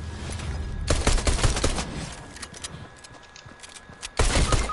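Rapid gunfire from a video game shooter fills the clip, loud bursts of overlapping shots at the start and again near the end, with a quieter stretch of scattered pops in between.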